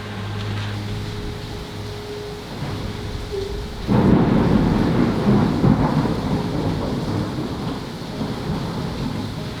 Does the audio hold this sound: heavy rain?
yes